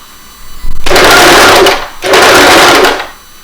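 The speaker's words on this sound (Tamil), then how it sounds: "இப்போ ஜிக்ஸாக் ஸ்டிச் வந்து எப்படி விழுகுதுன்னு பார்க்கலாம்." A Usha Janome Stitch Magic sewing machine sews a zigzag stitch in two loud, close bursts of fast whirring needle action, separated by a brief pause, with a short quieter hum before and after.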